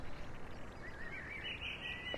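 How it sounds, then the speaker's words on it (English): Faint bird chirps and a thin rising whistle in the video game Nebula Realms over a low, steady background rumble, brief and distant. "I can hear the birds."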